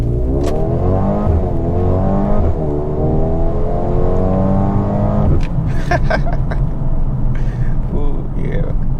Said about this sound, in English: So we're just going to go ahead and floor it.